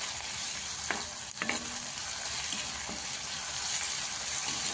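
Gavran-style jhunka, a gram-flour dish, stir-fried in a pan, a steady close sizzle with a few scraping spatula strokes near the start and no talking.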